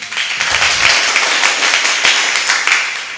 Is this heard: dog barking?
no